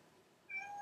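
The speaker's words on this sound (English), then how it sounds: "That's my cat." A pet cat meows once, a clear, close, moderately loud cry arriving halfway through and held to the end, with no talk around it.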